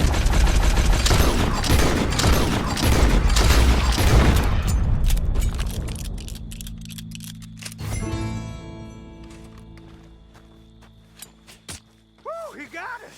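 Gunfire in Red Dead Redemption 2, a dense rapid volley of shots for the first several seconds that thins into scattered bangs and ringing tones, with people talking excitedly over it.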